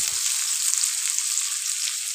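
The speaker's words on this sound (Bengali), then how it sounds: "গরম হয়ে গেলে এর মধ্যে দিয়ে দিলাম পেঁয়াজ কুচি, একটু নাড়িয়ে নিচ্ছি।" Chopped onion sizzles in hot oil in a pan, a steady bright hissing fry close by, with a faint scrape of stirring at the very start.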